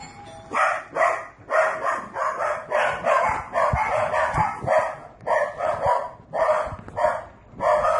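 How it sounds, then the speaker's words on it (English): Several dogs bark excitedly at a doorbell in repeated bursts, fairly close and loud, with brief pauses between volleys. "That's what happens when you hear the doorbell rings. Our dogs go on alert."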